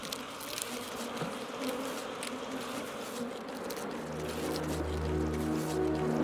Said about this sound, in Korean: 일사불란하게 조직을 가동시켜 집을 짓는 말벌.